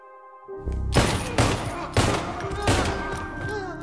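Gunfire from Chinese-made guns in a film scene comes as a rapid fusillade of heavy, booming shots in close succession, loud and near throughout.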